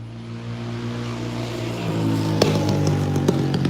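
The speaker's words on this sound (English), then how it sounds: "a loud car going by," A loud engine droning steadily, growing louder as a dirt bike approaches along a nearby road, with sharp clicks and rattles near the end.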